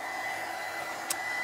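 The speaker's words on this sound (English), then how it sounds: "But with the heat gun or hair dryer, it works really well." A heat gun blowing hot air onto gel on a craft bottle, a steady close whirring hiss with a faint whine throughout and one brief click near the end.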